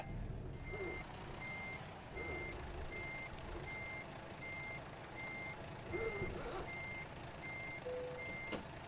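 Reversing beeps from a truck backing a trailer in American Truck Simulator, a steady evenly spaced series of about a dozen electronic pips over a constant low engine rumble.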